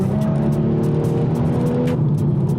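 A stage 2 tuned BMW M235i with a 3-litre engine cruises steadily, its low engine drone and road rumble continuous and close from inside the car, with no voices present.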